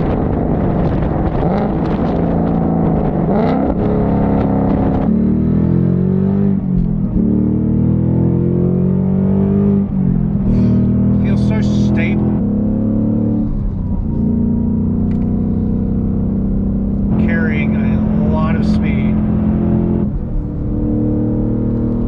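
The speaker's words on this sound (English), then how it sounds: "exhaust sounds delicious, man. Freaking good. Listen to this." A 2021-22 Ford Mustang Mach 1 with a Corsa double X-pipe exhaust idles with a deep exhaust rumble and revs up several times, each rev rising and settling, loud and close.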